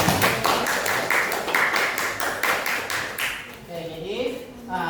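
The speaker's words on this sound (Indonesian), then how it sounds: "Oke, tepuk tangan dulu." A classroom of students clapping hands in applause, a rhythmic, fairly loud patter of claps that fades out and gives way to voices talking.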